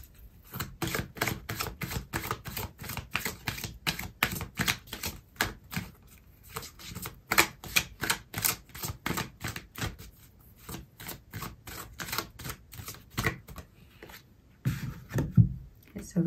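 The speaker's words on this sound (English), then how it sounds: "I'm going to pull out another card for you" Tarot cards shuffled and pulled during a love reading, a long run of quick, close crisp card snaps and flutters in steady rhythm with short pauses, with talk now and then.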